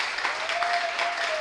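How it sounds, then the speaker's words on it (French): A studio audience at a televised church-program broadcast claps loudly and steadily, a dense wash of applause that holds at full strength for the whole moment with no voices over it. "Ça s'applaudit très très fort"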